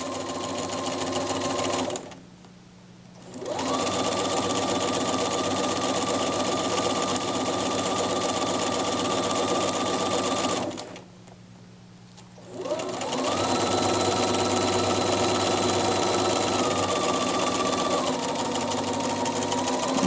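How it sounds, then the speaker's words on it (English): A sewing machine stitches a seam at a half-inch allowance, its motor running in a steady, close whir for long stretches, with two short pauses where stitching stops before resuming. "I'm going to keep going all the way around at 1/2 inch."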